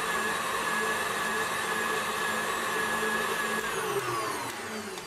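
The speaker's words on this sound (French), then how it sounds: "On a donc rajouté de l'eau et du lait à la poudre, tout mixé ensemble" Electric mixer whirring steadily as it blends Fun Cakes enchanted cream powder with water and milk, a loud continuous motor drone that stays even throughout and dips only slightly near the end.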